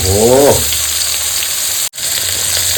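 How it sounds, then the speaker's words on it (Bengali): Chopped onions sizzle and crackle in oil left over from frying fish, a close, steady hiss with a brief whine at the start and a short break near the end. "ওই মাছ ভাজার তেলে একই তেলে আমি পেঁয়াজ দেবো কুচানো পেঁয়াজ"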